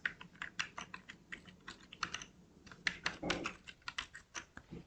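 Steady, close keystrokes clatter on a computer keyboard while C code is typed, with a rapid, uneven run of clicks and no talking.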